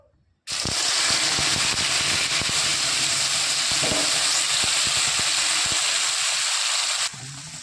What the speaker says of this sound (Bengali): এদিকে তেল গরম হয়ে গেছে, দিয়ে দেবো মশলা।